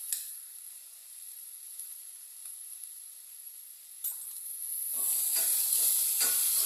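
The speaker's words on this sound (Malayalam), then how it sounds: "എല്ലാം ഇളക്കി നന്നായിട്ട് യോജിപ്പിക്കാം" Vegetable thoran stirred in a hot pan, a steady soft sizzle with light scraping strokes that grow louder near the end, no talking.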